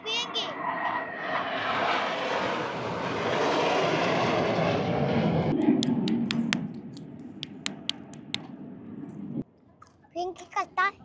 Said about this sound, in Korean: 아 맞아 비행기야.